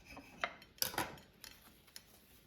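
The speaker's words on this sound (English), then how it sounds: "Now let me just cut it in half so you see that it's cooked inside." Knife slicing through an air-fried Jimmy Dean toaster pop-up breakfast pastry, giving a few soft close scraping and crunching cuts against a plate, quiet and irregular with no talking.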